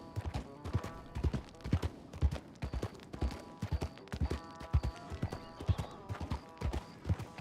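Horse hooves clip-clopping in a Western roleplay video game, a brisk, even walking rhythm of close, sharp hoof strikes continuing steadily without talk.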